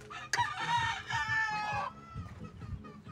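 A rooster crows once, loud and close, its drawn-out call lasting more than a second, followed by low clucking and farmyard shuffling.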